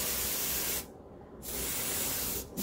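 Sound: spraying roses with a spray

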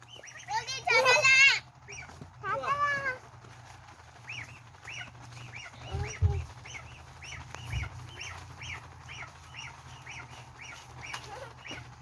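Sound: duck at grandfather's farm

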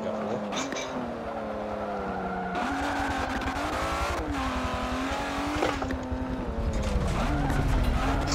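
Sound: race car engine and drifting in Forza Motorsport 7 video game

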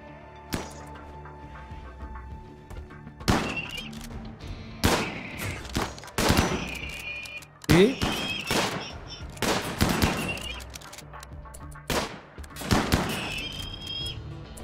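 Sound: gunfire in the video game Rimworld Combat Extended

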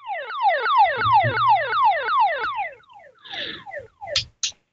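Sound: activated 121.5 MHz emergency beacon signal

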